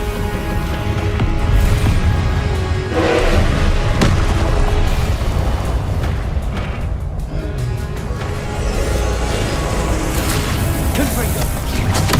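Explosive Confringo spell blasts in the Hogwarts Legacy video game, heavy booming thuds and rumbling impacts layered over continuous loud combat noise and game music, with a voice calling out spell names throughout.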